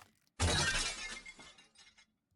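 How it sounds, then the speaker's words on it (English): A bathroom mirror's glass shatters in one sharp crash that breaks into a scatter of tinkling fragments fading over about a second, alone in a quiet room. "Smashing the back of your head into the bathroom mirror."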